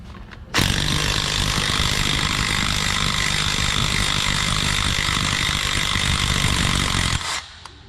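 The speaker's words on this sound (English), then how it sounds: "let's go ahead and remove these bolts" Steady power-tool whine while removing bolts from a GM 8L90 transmission, one continuous loud run of about seven seconds that starts and stops abruptly, with no talk.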